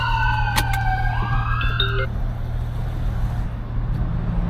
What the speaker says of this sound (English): Windows down, sirens blaring.